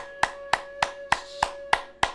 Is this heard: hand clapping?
yes